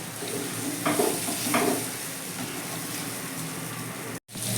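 Spice masala is sautéed with fried prawns for a potato, pointed gourd and prawn curry, giving a continuous close sizzle with a few louder stirring scrapes and a brief cut near the end, no talking.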